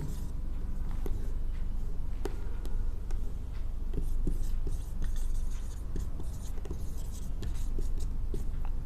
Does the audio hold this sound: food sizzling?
no